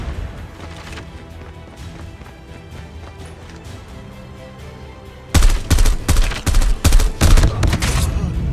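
Gunfire in the mobile shooter COD Mobile: after a quieter stretch of game background, loud rapid bursts of shots crack close by in quick succession.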